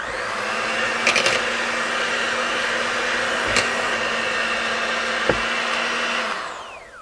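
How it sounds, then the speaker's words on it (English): An electric hand mixer blending cake batter for a crescent roll coffee cake, a steady whirring motor drone with a few brief clicks and knocks of the beaters against the bowl, running alone before cutting off at the end. "I'm just going to take an electric hand mixer and I'm going to blend this all together until it's well combined."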